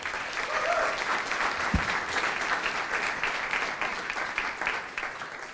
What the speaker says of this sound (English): So a big round of applause for Father Frank.